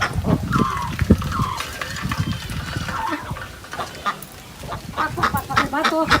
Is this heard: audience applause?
no